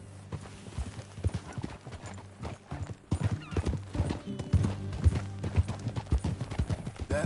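Horse hooves clip-clop in an uneven gait in the video game Red Dead, close and prominent, with a whinny and snorting mixed in over a low background hum.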